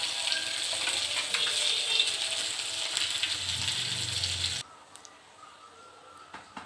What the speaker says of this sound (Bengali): এখানে মাছ ভাজি করতেছি, রান্না করব